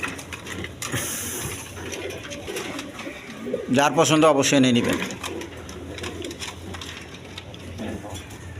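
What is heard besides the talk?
pigeons cooing on a pigeon farm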